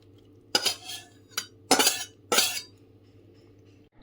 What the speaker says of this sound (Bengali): ধোকাটা ঢেলে দিচ্ছি।